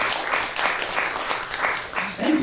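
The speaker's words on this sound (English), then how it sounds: "Thank you for that applause and my haphazard stand-up." A live storytelling show audience applauds in a brief, even round of clapping, with a voice starting to speak as it fades.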